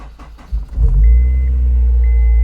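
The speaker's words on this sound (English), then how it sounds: "First, we're going to start up the car." A 2007 Honda S2000 cranks and catches, its engine rising into a loud, steady close-up idle rumble that holds to the end, with no voices.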